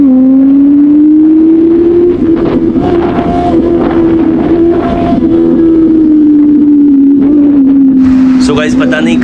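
A motorcycle pulls through traffic, its engine note a strong steady tone that climbs and eases slightly as it accelerates, with rushing wind noise over the microphone and a brief burst of other sound at the end.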